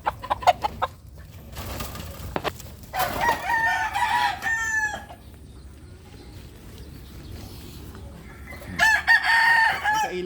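A small, early-maturing gamefowl rooster crows twice, once near and once a few seconds later, each a rising then wavering cock-a-doodle-doo over faint farmyard background noise and some clucking.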